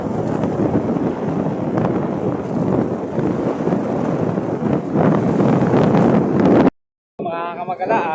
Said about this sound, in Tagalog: Masyado pong malakas ang hangin